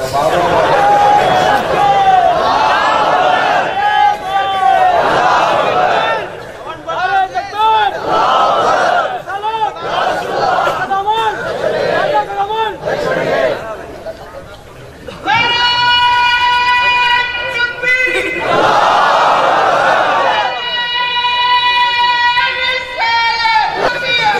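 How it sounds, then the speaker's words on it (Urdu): A large crowd at a religious gathering chants slogans in rhythmic rising bursts, loud and close, with a strong voice leading over the roar and brief lulls between waves of shouting. "کیا ٹھنڈے نعرے لگا رہے"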